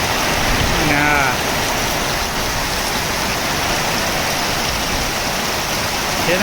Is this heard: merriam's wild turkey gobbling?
no